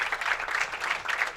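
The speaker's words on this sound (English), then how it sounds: "Nice round of applause for" Audience applause at a bowling amateur stepladder finals, a steady wash of clapping at moderate level that holds evenly throughout with no talk over it.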